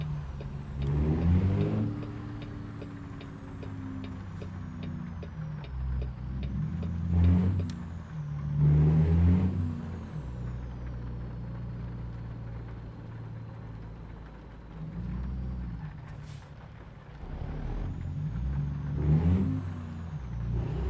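A low-pitched truck engine in the American Truck Simulator video game, a deep steady drone that swells repeatedly as it revs up through gears and settles back, loud and close with no talking.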